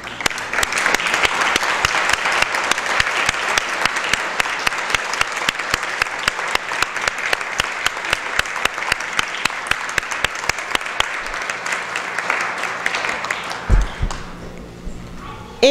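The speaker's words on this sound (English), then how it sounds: "Will you all please stand for a heartfelt round of applause?" A large audience gives a sustained round of applause for award honorees at a parental involvement awards ceremony, dense steady clapping that holds loud for about thirteen seconds before thinning out near the end.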